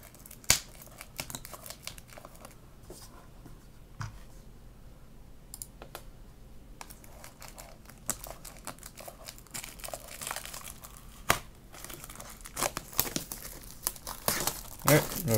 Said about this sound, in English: let's go ahead and rip off the plastic just to get started